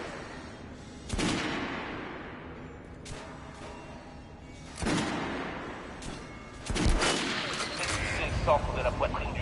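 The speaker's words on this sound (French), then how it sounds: "Allez, Artyom, va sur mon champ de tir pour essayer ces flingues" Gunfire at a shooting range in the video game Metro Last Light: several loud separated shots and bursts echo over an ongoing murky background, with a voice talking faintly.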